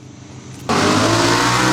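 A twin-engine mini dragster idles roughly, then abruptly goes to full throttle with a loud, sustained, raspy roar that stays steady and close for the rest of the clip.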